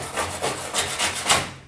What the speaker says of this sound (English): Give it a scrub.